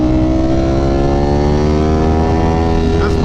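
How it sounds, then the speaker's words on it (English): A Ducati Panigale V4 SP2 motorcycle engine, fitted with an aftermarket exhaust, holds a loud, close, steady high rev that climbs slightly in pitch, a dense droning roar with no talk over it. "This bike revs so high"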